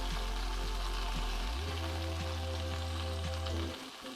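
Chicken pieces frying in a pan for chicken Marsala, a steady close sizzle under a low hum that drops away near the end.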